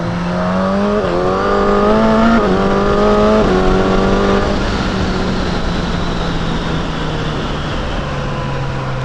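A 2022 Suzuki GSX-S1000 motorcycle accelerates hard, its loud engine climbing in pitch through several gear shifts before settling into a steady high-speed drone with wind rush, no talking.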